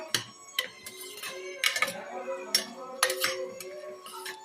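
Vegetables stirred in a cooking pot with a utensil, producing repeated clinks and scrapes against metal in an irregular rhythm, close and fairly clear.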